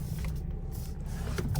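Power windows on a 2014 Jeep Compass whir as the electric motor runs steadily inside the car for a brief moment.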